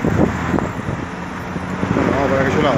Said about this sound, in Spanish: Ahí entran escuchando los autos, es la avenida Trabajadores.